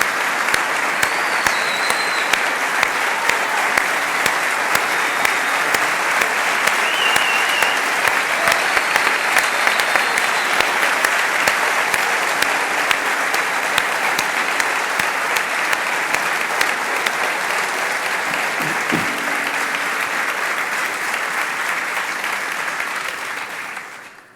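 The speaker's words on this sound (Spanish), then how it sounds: "A ambos los recibimos con este caluroso aplauso" Warm, sustained applause from a large audience at a Club Deportivo Tenerife gold-and-diamond insignia ceremony, a dense, even wash of many hands clapping continuously for over twenty seconds before tapering off.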